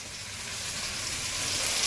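Garlic, ginger, tomato and spices sauté in a pan with a soft, even sizzle like light rain that grows slightly louder, with no voices.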